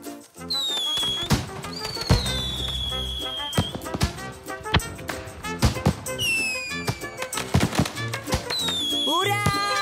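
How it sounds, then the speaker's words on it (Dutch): Fireworks burst over an evening celebration in a Dutch children's cartoon, with whistling rockets rising and repeated pops and crackles layered over bright music, loud and close throughout. "Je bent precies op tijd voor het vuurwerk."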